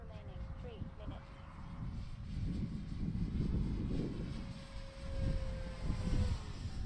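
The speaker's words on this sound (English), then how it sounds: "That was a full speed pass there." Turbo Timber Evolution RC plane making a full-throttle pass, a steady high electric whine holding one pitch, with loud wind rumble and voices over it throughout.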